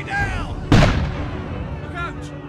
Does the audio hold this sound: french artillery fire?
yes